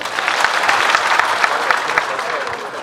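Dense, steady audience applause at a political gathering of Kenyan and Ugandan opposition leaders, close and loud for the whole stretch with no break.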